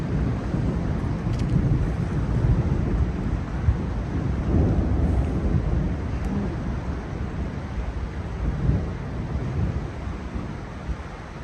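A thunderstorm rolls over a mountain campsite in the Wallowa foothills, with a steady low rumble of thunder and wind buffeting the microphone, swelling in a few heavier peaks, no voices.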